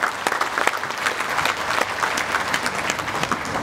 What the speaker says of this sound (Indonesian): Untuk itu saya minta tepuk tangan buat Menteri Perindustrian.